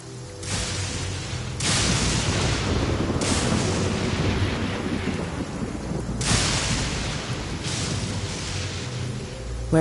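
Heavy rain pours steadily through a thunderstorm in the video game Genshin Impact, with several loud rolling thunder rumbles breaking over the constant downpour and no voices.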